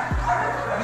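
One short, yipping bark from a K9 handler's dog, close by, with a voice speaking around it.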